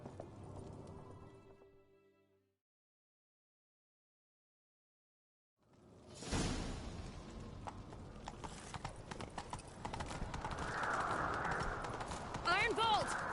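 Horse galloping in The Witcher 3, a rapid rhythmic hoofbeat clatter under game music and character voices, following a short stretch of silence.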